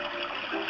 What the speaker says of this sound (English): You can go through the water.